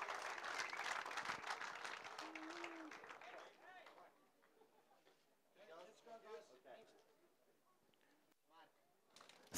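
Crowd applause at a live bass fishing weigh-in of a world championship competition, a burst of clapping at the start that fades under an announcer's amplified voice and tinny music.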